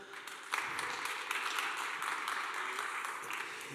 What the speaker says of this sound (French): On peut les applaudir peut-être.